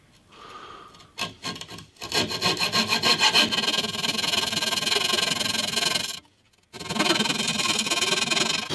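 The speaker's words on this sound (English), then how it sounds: "So I'm now just cutting them out with a coping saw." Coping saw cutting wooden brace pieces for a classical guitar body, rapid rhythmic rasping strokes with a short pause partway, close and clear with no talk.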